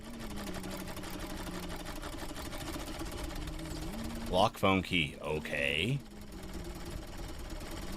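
A sewing machine runs in a video game, a steady mechanical whir under the whole stretch while a person talks briefly midway.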